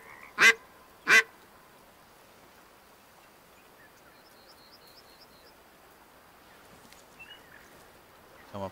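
A duck call is blown in the hunting game Way of the Hunter, two loud sharp blasts early on, then faint quacking ducks far off and a few soft calls later over quiet outdoor ambience.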